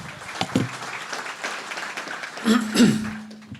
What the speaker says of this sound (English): let's give a big round of applause for James from NFX.